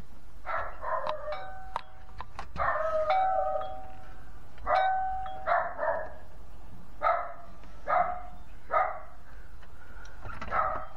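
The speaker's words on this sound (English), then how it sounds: "doorbell." A doorbell chimes at home amid a series of sharp, repeated dog barks, a steady run of bright bursts with short gaps between them and no talking.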